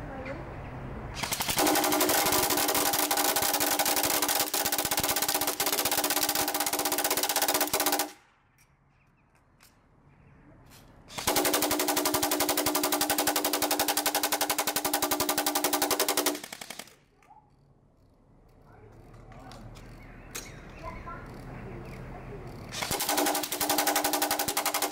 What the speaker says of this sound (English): So now we're gonna shoot full auto with my AR and the